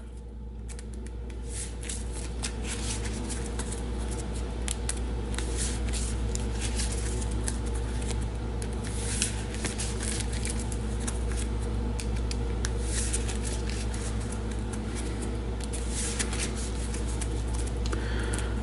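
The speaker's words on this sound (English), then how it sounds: "we'll go ahead and give the deck a shuffle." A tarot card deck being shuffled, continuous soft riffling and flicking of cards over a steady low hum, close and unbroken, without talk.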